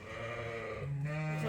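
Newborn lambs bleat in a crowded, wet lambing barn, with several overlapping cries that stay close and fairly loud, a higher call rising near the end.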